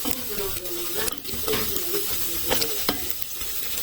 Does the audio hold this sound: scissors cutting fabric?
no